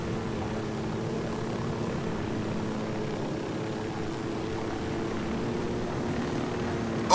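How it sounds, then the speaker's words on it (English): A steady droning engine hum with a low rotor-like throb, constant and unchanging, from a helicopter in flight in the video game Ghost Recon Wildlands, ending with a brief sharp noise. "I just want to learn how to fly this helicopter and keep it straight."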